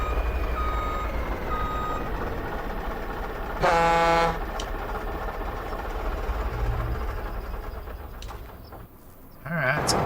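A truck engine rumbles steadily in a farming game on an Iowa map while a loud reversing beep sounds in a rapid burst, with low engine revving near the end.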